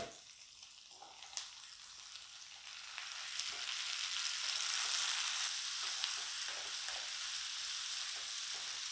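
Chopped tomatoes sautéing in a pan for a North Indian matar paneer gravy give a soft, steady sizzling hiss that builds gradually and stays even, quiet and close, without any voices.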